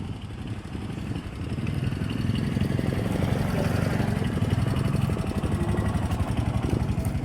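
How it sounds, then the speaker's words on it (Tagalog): Motorcycle engines, including Piaggios, rumble steadily along a road in Zamboanga City, a continuous mid-pitched drone of passing traffic at moderate distance. "Buti na lang maraming sasakyan. Yung mga motor, Piaggio."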